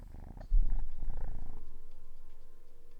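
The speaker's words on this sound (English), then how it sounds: "Oh, he's purring." A cat purring close by, a low steady rumble that runs under faint room noise through most of the moment, with a brief louder burst of handling noise near the start.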